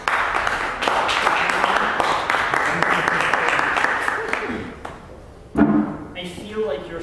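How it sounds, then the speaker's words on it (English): Applause from a Toastmasters public speaking club audience follows a speech, filling most of the clip, then fades as a voice begins to speak near the end. "And your applause, Cătălin Bolan."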